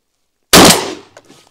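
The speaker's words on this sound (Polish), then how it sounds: "ten poper wywrócił się znacznie bardziej dynamicznie niż w przypadku strzału Radka z krótszej lufy i bez czoka" A Franchi SPAS-12 shotgun with a choke fires a single sharp, loud blast at a popper target on a range, followed by a decaying echo and faint metallic clatter as the target falls.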